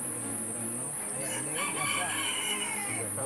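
A rooster crows in a farmyard, its drawn-out call rising and holding across most of the stretch, with faint background chatter and ambient noise underneath.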